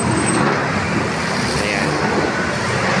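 Constant road traffic noise on a busy street fills the whole stretch, a loud, dense wash of passing cars and larger vehicles with no gaps.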